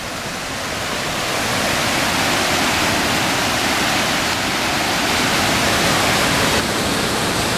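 Loud, steady rush of spring water flowing beneath a bridge on the slopes of the Grand Colombier, a broad continuous roar that swells slightly and never lets up.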